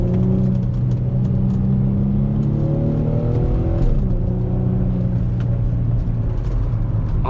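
Infiniti G35 driven hard through sharp corners, its engine revving loud and close with pitch rising and falling through the gears over a steady rumble, no talking.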